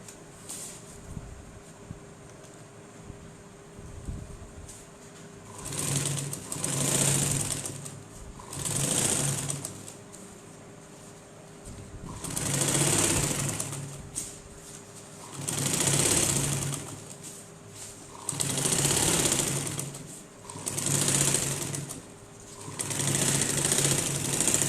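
A sewing machine runs in repeated short bursts, its whirring stitches rising and stopping in a steady stop-start rhythm as a fabric strip is sewn onto a crochet flower bag.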